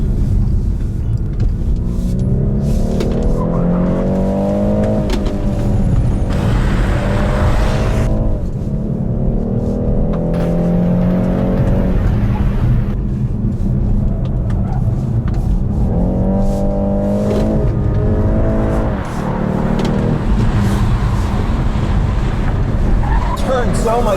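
A 2021 BMW 430i on Michelin Pilot Sport 4S tyres is driven hard around a race track for a timed lap, its engine droning and rising through the gears with tyre squeal, while a voice talks over it throughout.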